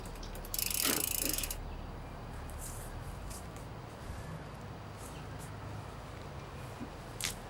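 An e-bike chain and freewheel ratchet on a Specialized Levo Comp Carbon click quietly as the wheel is wound by hand, soft mechanical ticking close by after a brief louder rustle near the start.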